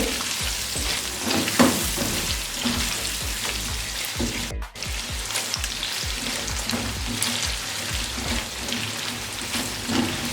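Chicken jalfrezi sizzles and fries in a pan while being mixed, a dense continuous crackle with scraping stir strokes, close and loud, without talk.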